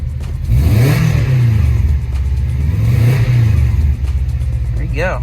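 A 1995 Subaru Impreza LX engine runs just after starting, a loud close idle that swells in a couple of revs before settling, with a brief voice at the end.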